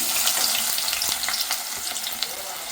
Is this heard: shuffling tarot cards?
no